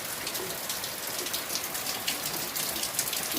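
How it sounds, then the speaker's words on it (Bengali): Steady rain patters and hisses continuously, a dense wash of drops with no voices. "বাইরে তো ভালোই বৃষ্টি পড়ছে"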